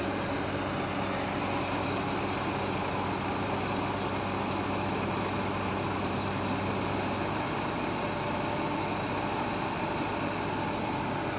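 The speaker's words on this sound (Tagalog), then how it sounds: "May isang truck pa parating." A truck rumbles toward a riverbank slope protection construction site, a steady broad engine drone that holds at constant loudness throughout without any pause.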